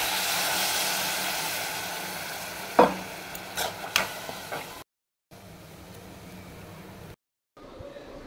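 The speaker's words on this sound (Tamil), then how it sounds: "ஒரு லெமன் சைஸ் புளி எடுத்து கரைச்சி வச்சுருக்கேன்," Tamarind water goes into a hot pan for coconut milk rasam, raising a loud, broad sizzling hiss with a few sharp clinks, then a quieter simmer broken by brief silent gaps.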